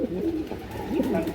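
Old-bloodline pigeon at a senior breeder's farm, giving a couple of soft, close cooing phrases over a low background with faint voices.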